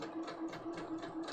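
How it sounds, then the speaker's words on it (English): A home sewing machine fitted with a walking foot stitches a fabric hem slowly, giving a close, even whirring hum with a regular mechanical pulse of needle strokes, no talking. "My sewing machine has the walking foot"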